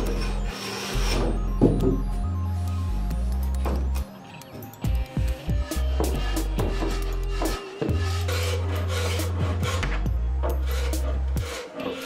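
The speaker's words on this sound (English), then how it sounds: "now I'll use a hand plane to trim it down to final dimension" Hand plane trimming a wooden keel piece for a wooden sailboat: repeated scraping strokes, some long and some short quick passes, under steady background music, close and moderately loud.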